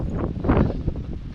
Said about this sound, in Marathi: कसला वारा सुटला बघा 1 नंबर